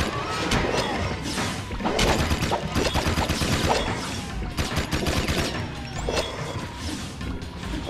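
Dense bursts of gunfire from the video game Jak II, rapid overlapping shots and crashing impacts packed tightly together, loud and close throughout with no talk.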